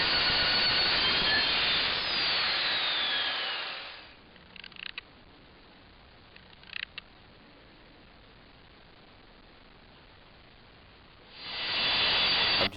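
A Rutlands track saw with its stock blade making trial cuts of birch plywood strips: a loud, steady, hissing whine for several seconds, a quiet stretch with a few faint knocks, then a second cutting pass rising loud at the end.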